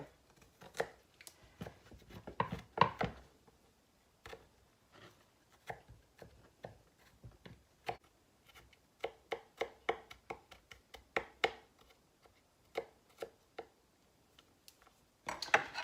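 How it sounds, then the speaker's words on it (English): A knife chopping garlic on a cutting board, with sharp, close taps in uneven bursts and short pauses, a quick flurry near the end. "That's a big piece of garlic. All right, so we're gonna chop that up."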